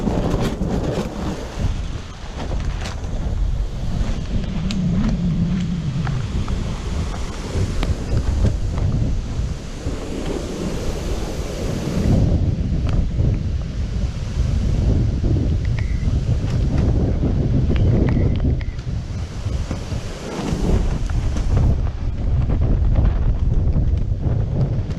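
Strong hurricane wind roars steadily and loudly throughout, gusting and buffeting the microphone in a dark outdoor setting, with a low rumble and no voices.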